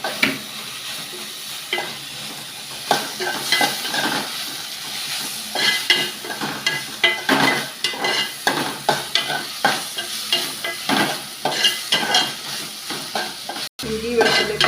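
Garlic paste and curry leaves sizzle and fry in a pan while being stirred, with steady close frying hiss broken by repeated scraping stir strokes throughout, and no one talking.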